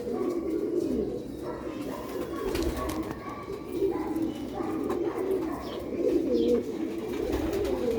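Sialkoti pigeons coo softly and repeatedly against steady background noise, their low rolling calls continuing throughout.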